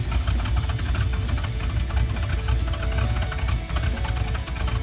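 A Camaro engine runs at idle while the car is shifted into reverse, giving a loud, steady, close rumble with a continuous hum and slight rhythmic vibration throughout, with no voices.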